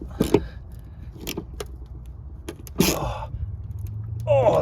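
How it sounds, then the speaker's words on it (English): Ratchet wrench clicking on a car brake line bolt while working on an RX-7, a few sharp metallic bursts with pauses and rustling between, fairly close and loud. "Ratchet."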